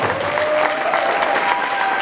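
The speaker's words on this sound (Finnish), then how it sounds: "Annetaan raikuvat aplodit näille kahdelle taistelijoille." Loud, steady applause from an audience at a 2015 charity swimming event, continuous clapping filling the whole moment without letup.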